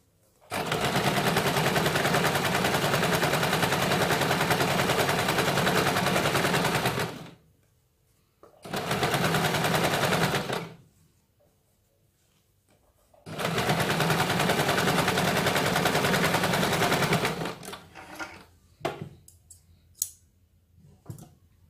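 A sewing machine runs double stitching on a katori blouse in three long, loud, continuous bursts separated by pauses, ending with scattered clicks and handling.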